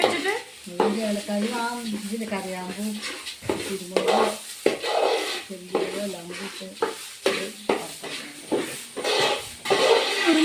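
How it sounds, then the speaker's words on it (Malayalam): Onions hiss and sizzle in a hot pan while a utensil scrapes and stirs, clattering against the metal in uneven strokes. "നമ്മുടെ സവോള മുരിയിച്ചുകൊണ്ടിരിക്കുകയാണ് ഇവിടെ"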